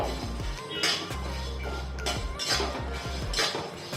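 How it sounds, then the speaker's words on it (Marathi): Cloves, cinnamon and other whole spices dry roast in a pan, rattling and clinking against the metal as they are stirred, with soft repeated taps close by. "लवंग आपल्याला हे सर्व भाजून घ्यायचंय"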